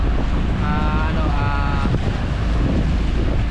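Strong wind roars steadily across the microphone over rough water, a continuous heavy rush with a faint voice briefly audible beneath it.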